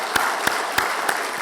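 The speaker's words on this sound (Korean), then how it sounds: "우리 박수로 크게 축하하겠습니다" A congregation at a Korean Sunday church service claps in unison, giving sharp, evenly spaced beats over a steady wash of room noise.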